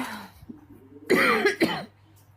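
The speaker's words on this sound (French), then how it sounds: "ça me fait tousser" A woman gives two harsh, close coughs in quick succession, with a short pause and faint breathy sounds before them.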